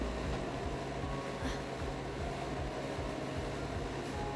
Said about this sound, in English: I started the freeze cycle for my freeze dryer already,